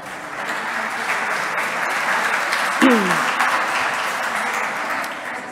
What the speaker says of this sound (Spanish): Un aplauso, por favor, y que Rosa os introduzca